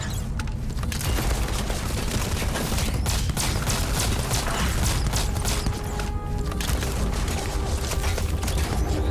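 A turret in the Starfield video game fires continuously, a dense, loud rattling barrage with mechanical clanks that persists throughout without pause.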